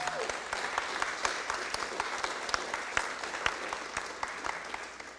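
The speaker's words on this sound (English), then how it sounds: "Let's give them a round of applause." An audience applauds scholarship recipients at a Fresno City Council meeting in City Hall, with steady, dense clapping throughout and some individual claps standing out.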